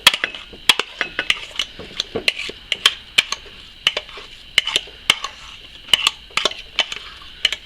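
Chopped apples, about two cups, tumble into a mixing bowl for an apple fritter cake, giving a run of sharp, close clatters and knocks at an uneven rhythm, with no talking.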